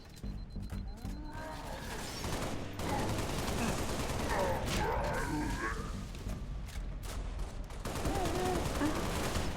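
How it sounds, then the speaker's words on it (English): Gunfire in the Halo MCC video game, a busy firefight with bursts of shots, mechanical clanks and creaks, and the sounds of game effects and combat loudly layered over one another. "Did I hear the sound of a pistol?"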